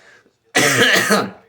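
A single loud, harsh cough bursts out close by after a brief quiet moment, rough and throaty, then trails off.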